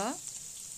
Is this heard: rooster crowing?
no